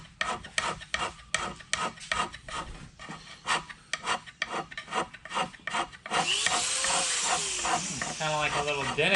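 A handheld machine scraper working a metal surface, giving repeated rasping strokes in a steady rhythm, close and fairly loud, then shifting to a continuous harsher grinding whine toward the end.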